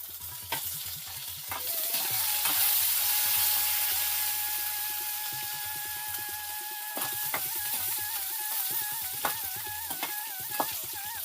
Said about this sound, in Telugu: ఇప్పుడు ఎండుమిరపకాయ వేస్తున్నామండి, కొద్దిగా కరివేపాకు వేస్తున్నానండి,